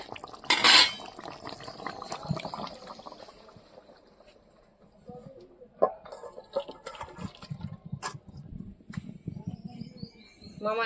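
Food is stirred in a pot on a home kitchen stove after a little mustard oil goes in, with scattered scrapes and clinks of a utensil against the metal pot, moderately near, plus a few sharp knocks.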